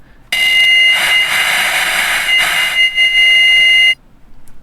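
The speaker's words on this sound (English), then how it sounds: "you have kind of like fax interference for this fourth one" Fax-style interference noise effect: a loud, sustained buzzing electronic tone with layered harmonics lasting about three and a half seconds, cutting off abruptly into quiet.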